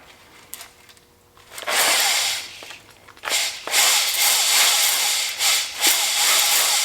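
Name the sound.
honing an engine cylinder with WD-40 cutting fluid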